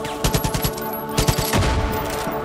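Rapid bursts of gunfire in the video game Far Cry 5, on the H3 Control Room arcade custom map, crackle in quick overlapping volleys over a steady game soundtrack, loud and near throughout.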